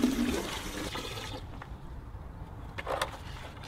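A bucket of water poured down a drain gully to clear it after debris is emptied, a close, steady rushing gush that tails off midway, followed by quieter splashing and gurgling.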